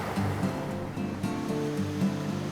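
River rapids in the Appalachian mountains give a steady, full rushing roar of water, close and continuous with no pauses or talking.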